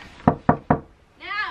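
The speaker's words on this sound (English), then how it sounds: "Now I'm going to knock on Destiny's door." Three firm knocks on a bedroom door in a home, evenly spaced and close, followed by a brief muffled voice.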